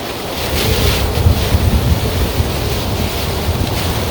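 A squall drives strong, gusting wind across the microphone in a harbor. Waves slap and churn underneath in a loud, continuous roar with uneven low rumbles.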